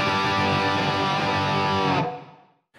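An electric guitar runs through a Focusrite interface into an unadjusted Marshall Jubilee amp plugin, giving a dense, heavily distorted sustained chord that rings loudly for two seconds, then cuts off abruptly with no talk.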